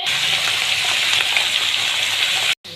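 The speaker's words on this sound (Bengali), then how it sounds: "এখানে কিন্তু চিংড়ি মাছ ভাজা চলছে কুমড়োতে দেওয়ার জন্য" Shrimp fry in a pan of hot oil for a pumpkin curry, a loud continuous hissing sizzle that runs steadily and then cuts off abruptly near the end.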